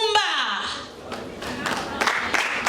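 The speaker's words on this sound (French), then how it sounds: "Applaudissez s'il vous plaît pour" Applause from an audience at an award ceremony as a literature prize winner is announced, scattered claps and crowd noise rising in bursts while a presenter keeps talking over them.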